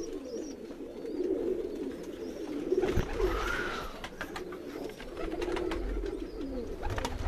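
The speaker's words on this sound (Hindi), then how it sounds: "ये भी मेरा ब्रीडर कबूतर" Breeder pigeons, one sitting on its squabs, coo in a sustained, undulating murmur up close, with a soft thump and brief rustle midway and faint chirps in the background.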